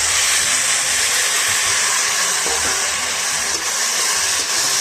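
Potatoes tipped into a hot pan of oil and mustard seeds set off a loud, close, continuous hissing sizzle that holds steady from start to finish with no talking.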